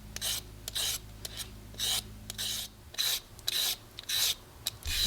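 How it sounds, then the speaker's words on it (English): A sharp peeler is drawn down a cucumber to cut thin ribbons, making a quiet, close, rhythmic series of short scraping strokes, roughly one every half second, with no talking. "She'll take a really sharp peeler and just start peeling it from the top to the bottom here."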